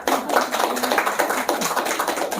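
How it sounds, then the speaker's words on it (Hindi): A seated audience at a spiritual yoga talk in Bistupur, Jamshedpur, claps in a brisk, steady run of fairly close hand claps that lasts a couple of seconds with no talking over it. "ताली नहीं बजी?"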